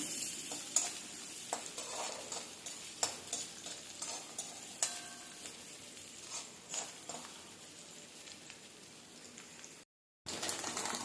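Garlic fries in a pan with a steady, close sizzle and crackle, punctuated by scraping stirs of a utensil, before a brief drop to silence near the end.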